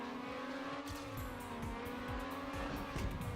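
A race car laps a custom track in the TrackMania video game, its engine droning steadily with shifting pitch and repeated tire squeals through corners, loud and continuous without any voices.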